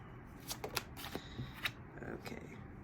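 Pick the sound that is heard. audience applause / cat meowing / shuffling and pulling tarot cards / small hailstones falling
shuffling and pulling tarot cards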